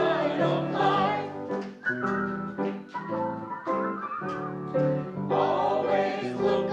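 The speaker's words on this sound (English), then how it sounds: "Just purse your lips and whistle, that's the thing." A person whistles a tune, a clear, loud melody in close, continuous phrases with brief pauses.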